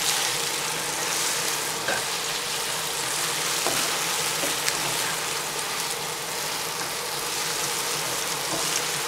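Garlic and onion fry in oil over medium-high heat for spring rolls, giving a steady close sizzle with faint crackles and a few soft stirring ticks throughout.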